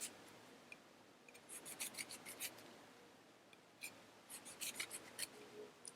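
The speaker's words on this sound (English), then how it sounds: "I take the lime and cut in a little bit, just through the skin." A knife slicing shallowly through the skin of a lime, heard as quiet, crisp scraping strokes in two close bursts of short repeated cuts with a pause between, fairly faint and with no talking.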